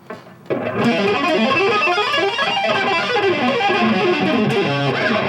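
Distorted electric guitar tapping, string skipping in a rapid stream of notes climbing up and back down the neck, loud and steady after a quieter opening moment, with no voice.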